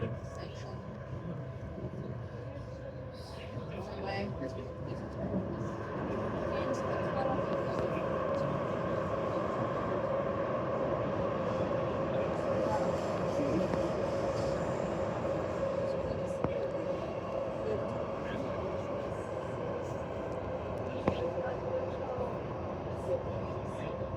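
An elevated Perth train on the new Thornlie-Cockburn Line runs along the middle tracks, giving a steady interior rumble and wheel-on-rail hum that swells slightly midway, with people speaking quietly over it.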